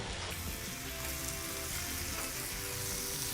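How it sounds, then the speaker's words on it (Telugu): Onions, spices and chicken sizzle and crackle steadily in a hot pan for an Andhra-style betel leaf chicken fry. It is a close, even frying hiss with no voices. "ఈ అన్నీ వేసి ఈ చక్కగా వేగుతున్నాయి"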